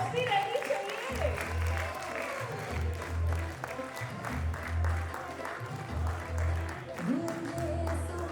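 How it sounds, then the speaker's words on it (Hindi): Audience applause at the Gujarat Sharad Samman awards distribution ceremony, a dense sustained clapping from a large crowd under a host's amplified voice speaking over a PA system. "अरे तालियां बजती रहनी चाहिए।"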